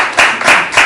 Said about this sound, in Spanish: un aplauso para Natalie